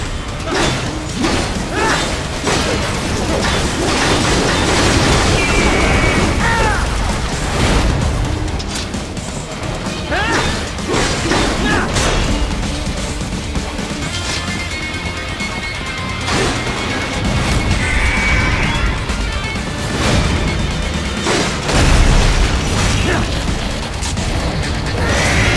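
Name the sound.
plasma cannon fire in video game Metal Gear Rising Revengeance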